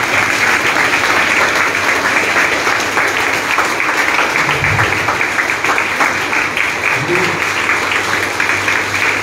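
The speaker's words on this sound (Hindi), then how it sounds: "बहुत शुक्रिया दिल से आप सबका इतनी जोरदार तालियां बजाने के लिए।" Loud, sustained applause from a seminar audience at a product training event in Ahmedabad, dense continuous clapping with a faint voice briefly audible underneath.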